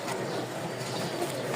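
A Rajshahi Giribaz pigeon, one of a red-and-light colored pair, coos softly and continuously at close range with no voices over it.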